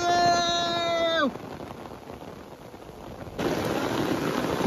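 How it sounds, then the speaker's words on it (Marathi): Heavy rain pours down steadily in a forest, a dense hiss at close range. A strong tonal drone fades out early, then the downpour grows louder toward the end. "खूप जोरात पाऊस पडतोय"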